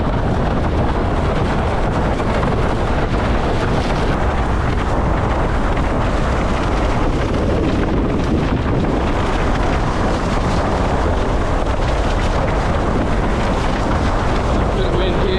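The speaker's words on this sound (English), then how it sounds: "There's a good bit of wind there" Strong wind out on the water while windsurfing on an iSonic board, a constant loud roaring buffet of wind across the microphone mixed with rushing water, unbroken throughout.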